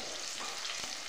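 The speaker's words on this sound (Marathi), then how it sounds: "लसूण पात 2 मिनिटं अशी भाजून घेते" Chopped green garlic fries in hot oil with mustard seeds in a pan, giving a dense, steady hiss and crackle close up, with no voices.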